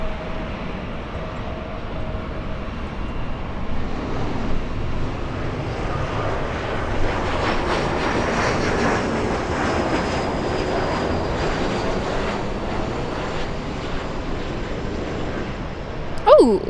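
A Delta Air Lines Boeing 737 in SkyTeam livery approaches to land at LAX, a broad jet roar swelling and holding steady for many seconds at a moderate distance.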